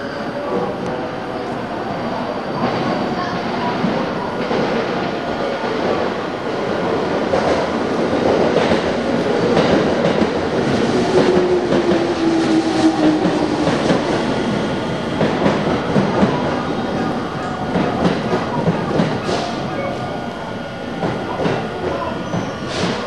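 A JR 215 series electric train pulls into Tsudanuma station, its rumble and wheel clatter building steadily and loudly before a brief squeal of brakes as it slows along the platform.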